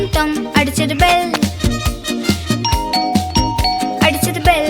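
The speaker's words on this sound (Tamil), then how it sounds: "டிங் டாங் அடிச்சது பெல்." A two-note ding-dong doorbell chime repeats over and over through a bouncy Tamil children's nursery song, its bright tones sitting among music and a sung vocal line.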